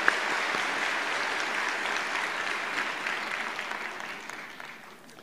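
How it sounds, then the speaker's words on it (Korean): A church congregation applauds in welcome at a Sunday service, a dense, steady wash of clapping that fills the room and slowly fades toward the end. "우리 큰 박수로 환영합니다"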